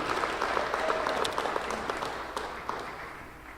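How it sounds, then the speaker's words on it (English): A crowd at a high school sports hall of fame induction gives sustained applause for the first inductee, a broad wash of many clapping hands that fades gradually, heard somewhat distant in a hall. "Let's give James Blair a big round of applause"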